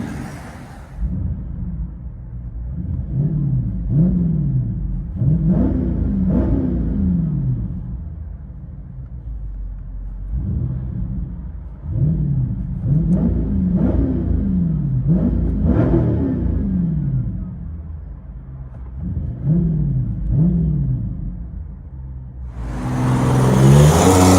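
From inside a Dodge Charger Scat Pack 6.4L HEMI, a deep V8 exhaust rumbles and revs in repeated pulses, swelling and easing, with a burst of wind noise at the end.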